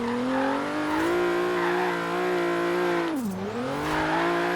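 A 700 hp Hyundai Genesis Coupe drift car engine holds a loud, steady high-rpm rev below the limiter, dipping briefly near the end before climbing again, with tire noise underneath.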